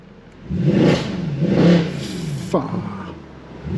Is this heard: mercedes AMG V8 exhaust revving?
yes